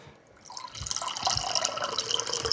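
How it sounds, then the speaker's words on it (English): Water pours from a filter into a cup in a rural kitchen, a short trickling splash that starts quietly and builds to a steady, close fill with no speech. "Just get a cup of water from this filter over here."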